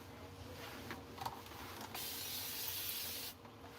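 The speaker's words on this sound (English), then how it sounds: "Got in my spray bottle, and I'm gonna attempt to redefine this." A spray bottle mists water onto hair in a steady, close hiss lasting over a second, following a few brief rubbing sounds.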